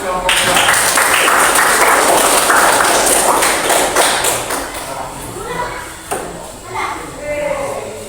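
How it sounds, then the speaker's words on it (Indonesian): A classroom of students claps for a presenting group in a lively burst of applause that fades after several seconds. Desk taps and thumps follow, and children chatter close by. "Beri tepuk tangan untuk kelompok 2."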